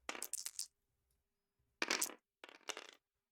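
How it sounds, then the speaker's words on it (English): Cursed object dice, rolled as d3s on a Relicblade tabletop, clatter in three quick bursts separated by short silences, each a bright rattling tumble settling close by. "we need to roll these cursed object dice, and these are rolled as d3s"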